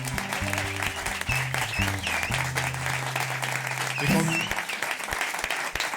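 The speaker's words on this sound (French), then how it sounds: "On peut l'applaudir, Jean-Paul André." A radio studio audience claps loudly throughout, a steady burst of applause while a voice and some music sound underneath.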